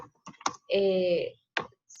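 Scattered clicks of keys being typed on a computer keyboard during a computer class, a few sharp taps spaced apart with a voice speaking between them.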